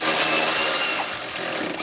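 A power nibbler chews through metal during a supercharger kit install on a Z1 Frontier: a loud, continuous, harsh grinding rattle heard close up and without pause.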